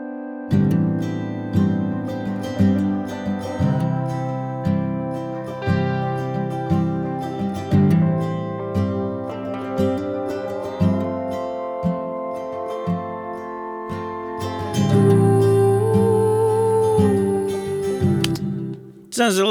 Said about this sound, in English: I record a collage of notes that I play on the lap steel one at a time on different tracks and stack them up